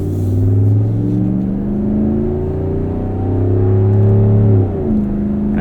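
A 5.7-liter HEMI V8 in a 2026 Ram 1500 pickup revs and drones loudly, its pitch rising and falling in long swells, then dropping sharply near the end.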